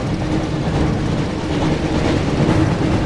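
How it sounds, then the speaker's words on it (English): The Hogwarts Express rolls past in the Harry Potter and the Chamber of Secrets PS1 game, a steady, loud rumble with rhythmic clickety-clack of wheels on rails and no speech. "Looks like we found the train, Ron."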